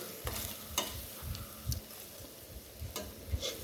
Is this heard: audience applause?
no